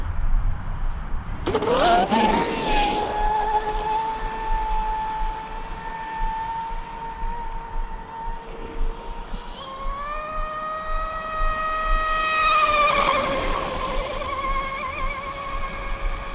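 A powerful upgraded off-road vehicle revs and drones while it is driven hard in tight ovals at about three-quarter throttle, its engine pitch holding and then climbing, with bursts of wind and dirt noise.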